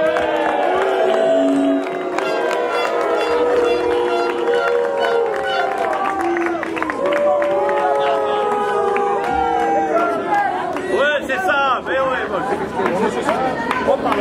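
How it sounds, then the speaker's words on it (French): An audience at a G7 fan club gathering cheers, whoops and chatters for a guest, André Guetta, with a loud continuous crowd roar and voices calling out throughout. "Applaudissez-le, s'il vous plaît."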